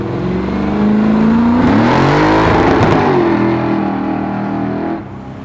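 A 750HP big block Ford Galaxie drag car pulls away with a loud, close engine roar that climbs in pitch through the gears, peaks, then settles into a lower steady drone.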